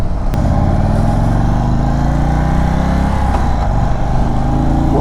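A 2022 Indian Chief Bobber Darkhorse motorcycle with a big V-twin accelerating hard, its deep, loud engine note climbing steadily and then dropping and rising again through a gear shift.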